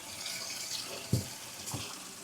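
Room-temperature water pours from a tap into a bucket, a steady hissing stream broken by a couple of brief splashy knocks, close and moderately quiet with no talking.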